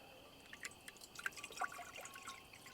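A faint, thin trickle of water poured into a Stanley pot, with scattered drips and splashes, quiet and close, no voices.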